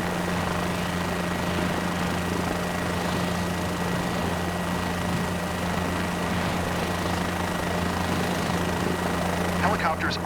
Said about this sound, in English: You have full control on the helicopter, and you are hovering all by yourself.